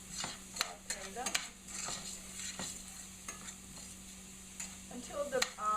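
Onions and thyme sautéing in a pan, a quiet steady sizzle broken by scattered clicks and scrapes of stirring, fairly faint throughout.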